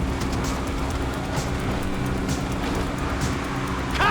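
A train passes in a video game, heard as a steady, loud rumble and rolling roar that continues without a break.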